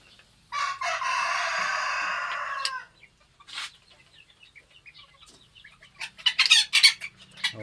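Chickens on a chicken and duck farm: a loud rooster crow stretches for about two seconds near the start, then scattered clucks and short calls follow, rising into a busier burst of clucking toward the end.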